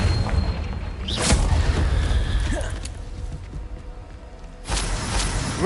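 Confringo fire spell from the Hogwarts Legacy video game, a loud booming blast with a sharp whoosh near the start and another burst near the end, over a sustained rumbling game backdrop.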